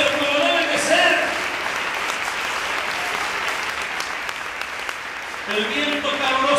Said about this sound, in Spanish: Le quieren dar esas palmas al Señor, pero como deben de ser.